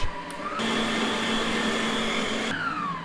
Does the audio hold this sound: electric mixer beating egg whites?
yes